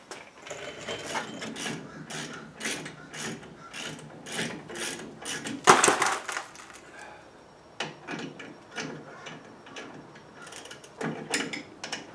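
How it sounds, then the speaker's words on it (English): Ratchet with a 17mm socket working a brake bolt on a 2004 GMC Sierra 1500, close rapid clicking in repeated short bursts with pauses between strokes, plus one louder metallic clank midway. "so I'll get a 17 socket now"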